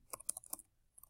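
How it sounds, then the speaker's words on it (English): Quick, light taps on a computer keyboard, a short burst of about five clicks followed by a pause and a final soft keystroke, close and quiet. "Hope you don't mind my typing rather than writing."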